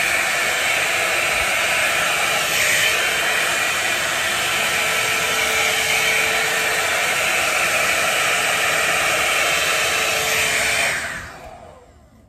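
A hot air brush hair dryer with a large brush attachment blows with a steady, loud whooshing hiss for about eleven seconds, then winds down and cuts off.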